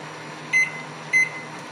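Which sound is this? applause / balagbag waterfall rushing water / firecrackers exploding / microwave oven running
microwave oven running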